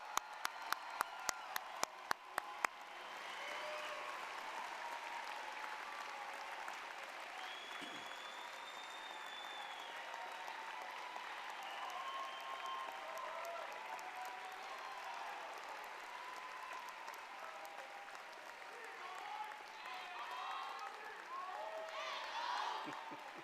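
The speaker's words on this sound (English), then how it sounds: "Let's give them all another round of applause." A few sharp rhythmic claps open, then a crowd at a graduation commencement breaks into sustained applause that continues evenly, with faint voices and murmurs mixed in.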